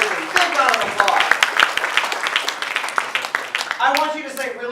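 An audience claps together at an ICG World and Discovery Leisure Group event, a dense, steady patter of many hands that carries on throughout, with voices and cheering mixed in.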